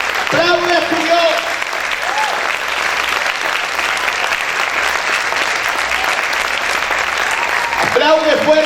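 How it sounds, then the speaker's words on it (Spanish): A church congregation claps loudly and continuously during a sermon, dense applause close to the microphone with a preacher's voice shouting over it at the start and end. "¡Aplaude a tu Dios!"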